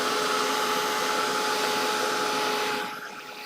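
A hair dryer blows on watercolour paint, a steady close whirring hum with a high whine that drops in level near the end as it is moved away or switched down.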